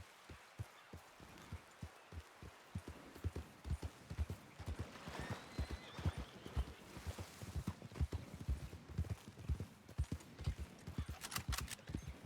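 Horse hooves clip-clopping in the WildRP video game, a rhythmic string of fairly faint hoofbeats that speeds into a quicker gait, with a brief whinny partway through.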